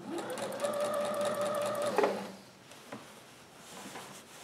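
A sewing machine stitches the fabric of an aloha Hawaiian shirt, running in a steady close whir for about two seconds before stopping, then a few light clicks and handling noises follow.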